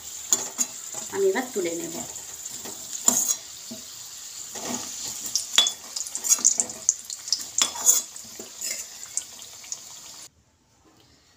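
Potatoes fry in oil for mutton biryani with a constant crackling sizzle and repeated scraping stirs, while a person talks briefly. The sound cuts off abruptly near the end.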